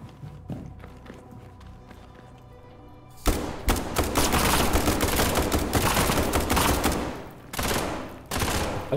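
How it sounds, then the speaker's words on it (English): A gun in the video game SCP 5K sprays bursts of rapid automatic fire, loud and close, starting abruptly after a quiet stretch and continuing in dense volleys with short pauses. "I don't know what gun they're using, but freaking sprays like anything"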